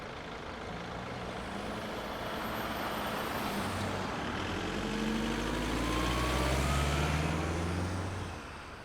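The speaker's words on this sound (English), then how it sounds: "And sure, yes, the traffic is distracting too." Heavy road traffic rolls past along a busy route, with trucks and buses dominating a broad, steady roar that swells toward the end, plus a faint air-brake hiss and sweeping tire tones; no voices.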